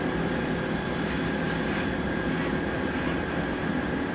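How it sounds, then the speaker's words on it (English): Douglas DC-6 piston airliner moving at Ted Stevens Anchorage International Airport, a steady, distant drone of engines with a constant rumbling wash and no talk. "I believe the DC-6 is on the move, folks."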